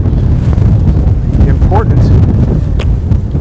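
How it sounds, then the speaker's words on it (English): Outdoor wind buffets the microphone in a loud, continuous low rumble throughout, with a brief spoken word underneath. "You see, it's windy"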